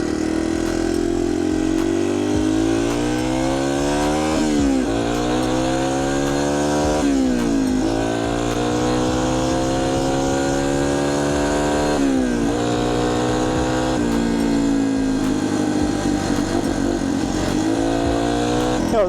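A 20-year-old Yamaha TTR230 dirt bike engine running loud and close, its steady drone rising and falling through repeated revs and throttle blips with no talk.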